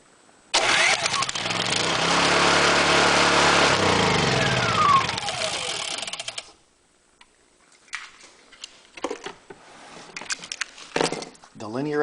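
A Honda EU2000i generator engine starts up and runs loudly for several seconds, then its pitch sweeps down as it shuts off, leaving quiet clicks and handling noises.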